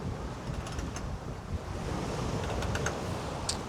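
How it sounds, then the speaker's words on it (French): Wind buffets the microphone with a continuous low rumble on a sailboat crossing the Bay of Biscay at dawn, with a faint wash like surf in the background and no voices. "j'espère que le micro va marcher parce qu'il y a encore un peu de vent"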